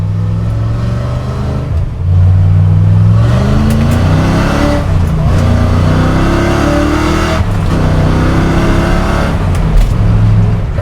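A Ford Mustang fitted with coilovers revs loudly and close up, its engine note rising and falling through several throttle blips below full throttle.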